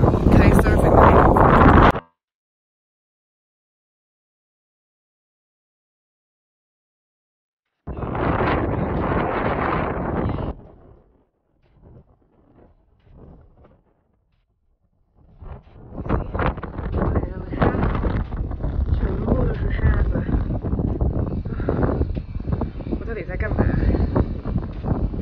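Strong wind on a beach in Morocco during kitesurfing lessons, roaring into the microphone in heavy gusts separated by sudden near-silent lulls, ending in a long sustained blast.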